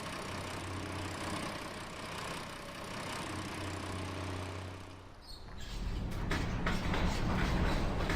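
A tractor engine in Farming Simulator idles with a low, steady drone, then cuts off around the middle, leaving a rougher, louder rumble of machinery and some clatter.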